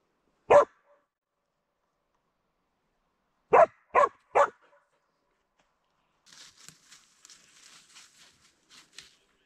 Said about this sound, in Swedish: Ja, det Freja skäller på sugga och brungris i alla fall.